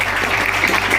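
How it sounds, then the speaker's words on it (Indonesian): Loud, close applause for Mas Joko Kanto at a poetry evening, a brief dense burst of clapping filling the whole moment. "Tepuk tangan untuk dia."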